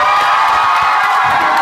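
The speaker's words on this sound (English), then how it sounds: "Give me one more cheer." A crowd cheers loudly and steadily throughout, with a broad wash of whoops and shouts for Isaiah at a church gathering, no single voice standing out.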